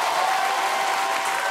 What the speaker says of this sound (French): on applaudit, on encourage.